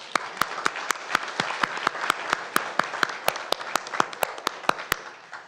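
Applause rises for guests at a school board meeting, a room of many hands clapping steadily with sharp individual claps standing out close by, continuing evenly throughout without talk.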